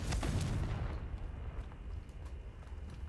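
A spell blast in the video game Hogwarts Legacy bursts with a loud booming explosion at the start, then fades into a low rumbling tail for the rest of the moment.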